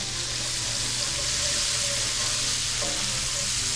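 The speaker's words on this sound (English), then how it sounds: "saute it until it's all nice and translucent" Onions sautéing in a pan for warm German potato salad give a steady, close hiss of frying that holds even throughout, with no voices.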